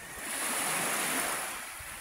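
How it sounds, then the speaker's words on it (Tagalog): Ocean surf washing onto a beach at Malabor, Tibiao, Antique as the tide rises toward high water, a steady broad wash of breaking waves with a gentle swell in loudness, no voices present. "Umaano na yung alon, lumalaki na, oh."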